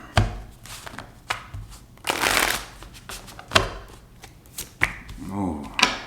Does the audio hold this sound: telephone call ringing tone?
no